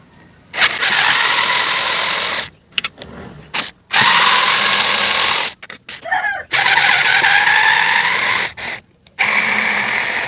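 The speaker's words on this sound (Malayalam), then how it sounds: "അപ്പോൾ 4 സ്ക്രൂ നമ്മൾ കഴിക്കാൻ വേണ്ടി പോവാണ്." A power tool whirs in repeated bursts while backing out the four front screws on a Neo Motion battery casing, each loud, close run broken by short pauses, with a ratcheting, geared edge to the spin.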